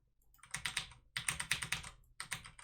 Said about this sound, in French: je vais taper un peu sur le clavier